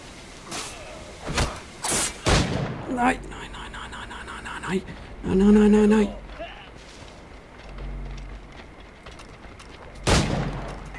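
Gunfire in Assassin's Creed IV Black Flag on PS4: several sharp, loud shots and a burst of rapid fire ring out in a firefight, with a player talking and reacting between them.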